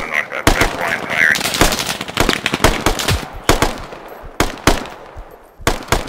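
Bursts of MG5 machine gun blind fire in the military shooter Squad, rapid broadband cracks repeating through the whole stretch at varying distance, some sharp and near, others duller, with faint voice chatter mixed in.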